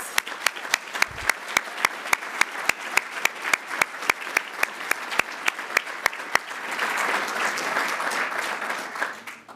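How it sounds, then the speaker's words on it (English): Steady applause from a crowd at an awards ceremony, with a few sharp, loud claps standing out near the front, continuing throughout. "Let's give a huge round of applause to all of our honorees."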